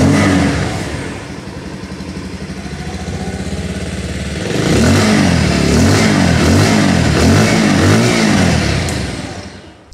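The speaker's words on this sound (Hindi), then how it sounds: "चलिए इसके जो एग्जॉस्ट साउंड है वो मैं आप लोगों को सुना दूँ।" Bajaj Pulsar 150 BS6 motorcycle, a 2022 model, idles steadily at close range, then its exhaust note rises through several rhythmic throttle blips and revs before settling, loud and alone with no talking.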